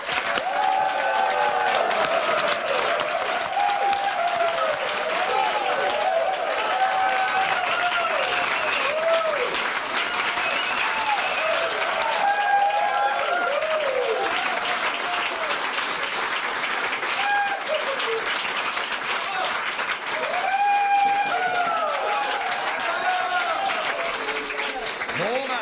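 A hall audience gives thunderous, sustained applause welcoming the farm women finalists of a cooking show, steady dense clapping throughout with a voice talking over it.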